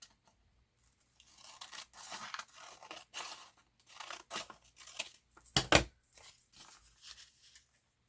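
Scissors snip through paper for an envelope pocket in a series of short, close, crisp cuts with quiet pauses between, one sharp louder snip standing out midway.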